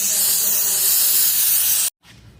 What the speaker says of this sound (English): spraying some wheel cleaner